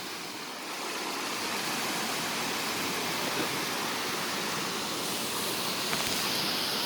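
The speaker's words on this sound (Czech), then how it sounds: "Tak hezký vodopád jsem ani neviděl" The Mumlava waterfall roars as a dense, steady rush of falling water, close and constant with no voices over it.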